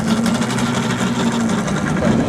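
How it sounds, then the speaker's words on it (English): A DC motor drives a conveyor belt at an irrigation engineering exhibit, giving a steady, even mechanical whir with a low hum and no pauses, close and continuous. "it's supposed to run a conveyor belt. It runs a DC motor."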